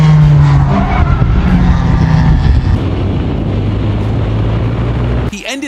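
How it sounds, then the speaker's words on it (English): Race car spinning out on a track, loud engine roar with tire noise and skidding, shifting pitch before a sudden drop near the end. "He ended up spinning the car right in the most dangerous part of the track."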